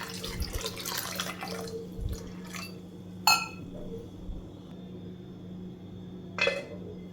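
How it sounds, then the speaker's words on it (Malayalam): Water is poured into a pot of green gram (mung beans) being readied for cooking, a splashing gush at the start followed by a few faint clinks of the pot in a quiet kitchen. "ഇനി നമുക്കിത് വേകാൻ ആവശ്യത്തിനുള്ള വെള്ളം ഒഴിച്ചിട്ട് അടുപ്പത്ത് വെച്ച് വേവിച്ച് കൊണ്ടുവരാം"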